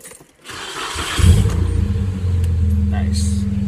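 A Panda S13 car engine cranks and catches after a clutch swap, a short starter whir rising into a loud, close, rumbling idle that settles and keeps running steadily.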